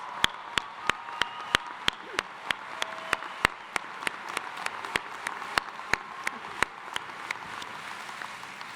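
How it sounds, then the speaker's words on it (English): Sharp, evenly spaced claps ring out at a law school commencement ceremony for the graduates, fairly faint over a soft, hissy room background. "Will everyone join me in giving them an applause?"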